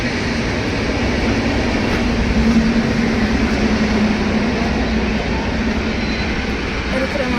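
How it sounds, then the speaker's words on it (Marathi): A train rumbles past in one loud, steady roar that stays constant throughout, close by and heavy, with no one speaking over it. "इकडे रेल्वे चालली बघा"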